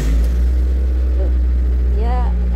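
A cold Suzuki T120SS pickup engine idles high after starting, a loud, steady low rumble close by, with a voice talking over it.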